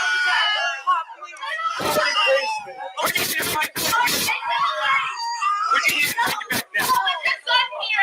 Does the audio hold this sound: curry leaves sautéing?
no